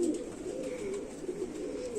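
An Indian Rampuri pigeon coos in soft, low repeated calls, close and fairly quiet over a faint steady background.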